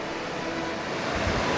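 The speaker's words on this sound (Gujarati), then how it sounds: "કેવા ખડખડ પાણી વહે છે" Water rushes and gurgles in a steady, dense wash with no break, heard during a monsoon outing in Kutch, with no voices over it.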